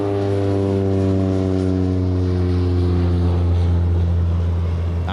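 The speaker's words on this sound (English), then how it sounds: "That's a Cessna 208B Grand Caravan" Steady, loud drone of a Cessna 208B Grand Caravan single-engine turboprop at Ted Stevens Anchorage International Airport, a strong even hum with stacked tones holding for the whole stretch, close and continuous with no talk.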